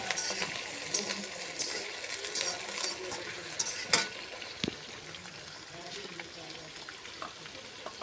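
About 700 grams of chicken pieces frying in a pan for a desi butter chicken, giving a steady, dense sizzle with a few soft utensil clinks and scrapes throughout.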